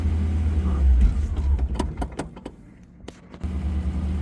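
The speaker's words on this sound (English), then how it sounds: "Now let's drive this back to the shop." A 1955 Ford Thunderbird with soft, squishy brakes and overdue for a tune-up, driven on the road: steady engine and road rumble with a few sharp clicks and knocks, easing briefly before the engine noise swells back.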